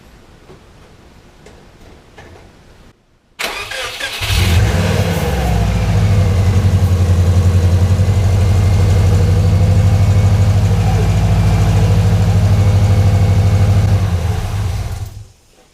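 A twincharged Subaru Outback, supercharged and turbocharged, fires up on its first start after a short quiet lead-in, then settles into a loud, steady, low idle with a ticking rhythm that continues until it cuts off near the end.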